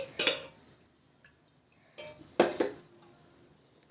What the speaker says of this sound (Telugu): కొంచెం గిన్నె పెట్టి అయితే ఆయిల్ వేస్తున్నా